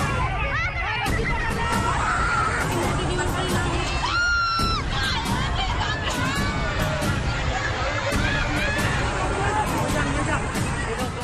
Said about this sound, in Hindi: पानी की लहरों का हाहाकार और चीख पुकार।